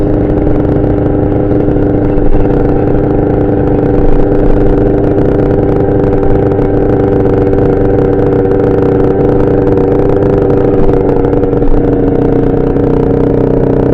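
A motorcycle fitted with a Yasuni exhaust runs rough at steady revs, its loud, continuous engine drone carrying a slight uneven clatter throughout with no one speaking.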